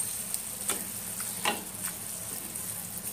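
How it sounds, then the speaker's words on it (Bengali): Minced mutton being stirred and mixed with spices in a pan over low heat, a soft steady sizzle with a few sharp scrapes and clicks of the spoon, close by, no voices. "কিমা খুব ভালো করে সমস্ত মশলার সাথে মিক্স করে নিচ্ছি"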